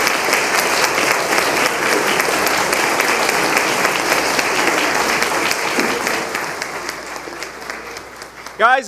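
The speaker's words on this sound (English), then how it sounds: "Let's give her another applause, please, Daisy Sue." A holiday celebration concert audience applauds steadily after a choir performance of a Christmas song, dense continuous clapping filling the hall before tapering slightly at the end.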